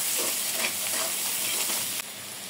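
Spice paste of ground ginger, cumin, coriander and dried chilli frying in oil, a steady close sizzle with soft stirring scrapes throughout, dipping slightly in the final half second.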